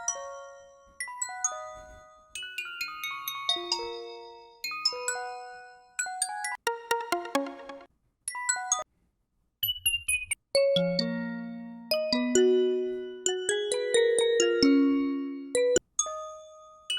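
A stock FL Studio bell synth plays a dark trap melody alone, with bright, ringing struck notes in quick runs and chords, each decaying with a shimmering tail.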